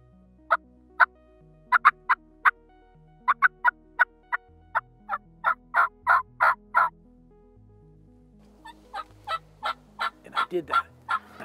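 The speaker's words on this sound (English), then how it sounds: "I mean, right away, this bird gobbles." A wild turkey gobbles repeatedly during a spring turkey hunt, sending out rapid strings of rattling calls in several bursts. The calls are fairly close and loud, with a low tonal background underneath.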